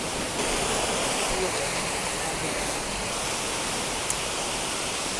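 Bhagsu Nag waterfall in McLeodganj roars as a dense, steady broadband rush of falling water. It is heard close and loud throughout, with no break.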